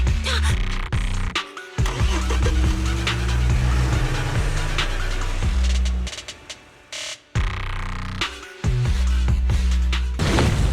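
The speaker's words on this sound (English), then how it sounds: "Piper, start the truck." A truck in the game Zenless Zone Zero starts up and rumbles, its low engine drone cut by sharp mechanical clunks and brief dropouts, loud and close, with no one talking.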